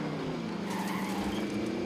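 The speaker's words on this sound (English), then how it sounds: "Oh, he hopped in the car." Car driving in the Call of Duty Warzone video game, a loud engine roar with tire noise rising in pitch over a couple of seconds, close and continuous.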